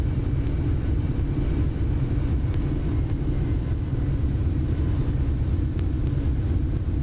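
Jet reverse thrust roars steadily as a trijet airliner lands in Microsoft Flight Simulator, a loud, continuous low rumble and whir filling the whole stretch without a break.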